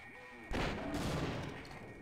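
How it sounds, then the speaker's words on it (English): The machine gun's alternate fire in Half-Life launches a grenade with one sudden loud blast, and a rumbling decay trails off over the next second and a half. There is quiet game ambience just before it. "Oh, alternate fire from the machine gun."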